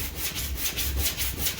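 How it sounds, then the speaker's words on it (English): Hand planer peeling a strip off a wooden scarf joint, heard as a steady rhythmic rasping, with repeated close strokes running continuously and fairly loud. "So I'll use my planer again. And I'll just take a strip of that off"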